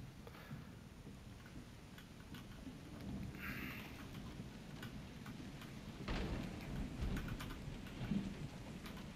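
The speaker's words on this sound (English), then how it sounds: "It's raining outside." Steady rain falls outside in the video game Resident Evil 7, a continuous patter with low rumbling thunder and occasional sharper drops, building slightly louder toward the end.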